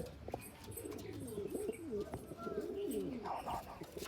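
Punjabi Malwai pigeons coo softly at close range, low throaty burbling calls with faint chirps over a steady background hum.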